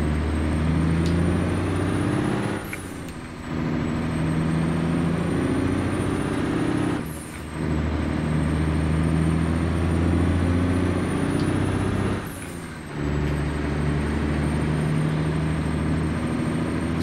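A Mack R truck with an ENDT 676 285-horsepower diesel drones under load in American Truck Simulator, a strong harmonic engine hum broken by three short dips as gears shift, then climbing again.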